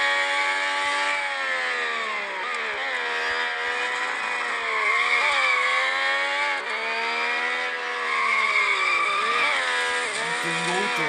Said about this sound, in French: Ça freine très fort.